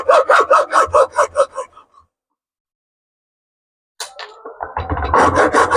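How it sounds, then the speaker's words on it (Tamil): Coconut shell pieces are cut for a craft, heard as a close rhythmic series of rasping sawing strokes, then a pause of silence before scraping and sawing start again. "இதை மாதிரி எல்லா பீஸையும் நம்ம கட் பண்ணி எடுக்க போகிறோம்."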